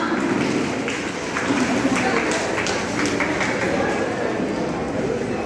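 An audience at a speech on women's self-defence gives a long round of applause, a dense, steady wash of clapping that stays loud and even throughout.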